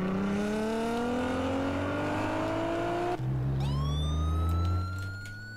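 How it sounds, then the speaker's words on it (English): A fire truck siren wails loudly nearby, its pitch sweeping steadily as the truck passes, then a new rising wail starts close by and holds over a deep engine rumble before fading slightly. "That's a fire truck"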